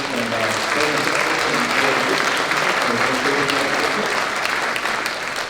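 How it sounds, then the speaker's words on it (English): Steady, enthusiastic applause from a large crowd at a high school spring music concert fills the whole stretch, dense and continuous without letting up. "How about a rousing round of applause for our building"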